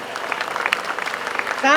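A crowd claps at a pigeon competition prize ceremony, a short burst of scattered applause under a voice talking.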